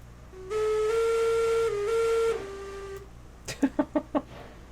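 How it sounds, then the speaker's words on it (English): Steam locomotive whistle in the railroad game Railroads Online, sounding one long sustained tone of about two and a half seconds, followed by four short sharp toots in quick succession. "Worst whistling ever."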